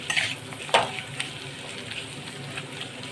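Ground cumin paste is stirred into winter vegetables and cabbage frying in a pan, giving a continuous low sizzle broken by a few sharp spatula scrapes and clinks near the start.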